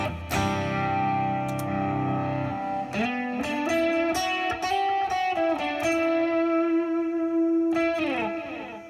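Electric guitar with a crunchy overdriven tone through a Line 6 HX Stomp and HX Effects with delay and reverb, sustained chords and bending notes ringing out with echoing tails, loud and alone.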